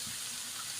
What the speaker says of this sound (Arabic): انا كده طفيت عليها وصفيها